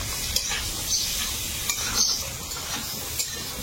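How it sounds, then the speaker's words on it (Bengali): Potatoes fry in a pan with salt and turmeric in a home kitchen, giving a steady hiss and sizzle, broken by occasional scraping stirs and light clinks, close and alone. "আমি এবার এর মধ্যে লবণটা দেবো আর হলুদ গুঁড়ো দিয়ে ভাজবো"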